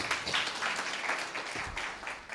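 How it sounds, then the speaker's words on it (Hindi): Audience at a church conference in Mumbai breaking into dense, sustained clapping and applause, loud and continuous throughout with no talking over it. "जी, फिर से ताली हो जाए।"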